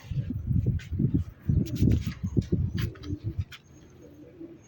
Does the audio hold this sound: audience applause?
no